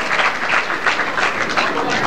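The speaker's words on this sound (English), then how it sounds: "Got the crowd going." A bowling-alley crowd at a candlepin bowling match applauds in a brief, dense burst of clapping that stays steady and fairly close throughout.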